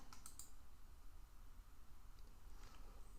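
Faint, sparse clicks of keys being typed on a computer keyboard against a quiet background hum, a few taps near the start and a few more toward the end.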